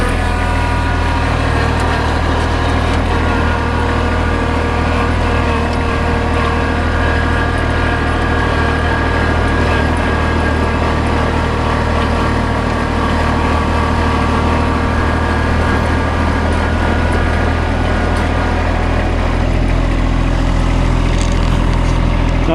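A tractor with a rear blade plows snow along a gravel drive, riding on loaded tires fitted with heavy chains; a loud, steady engine drone fills the whole stretch with no talking.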